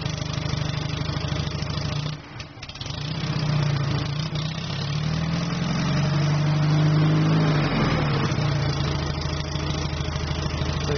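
A home-made 4x4 mini tractor's engine runs steadily and loud up close, a constant mid-pitched drone with a brief dip and then a slight rise in revs, with no voices.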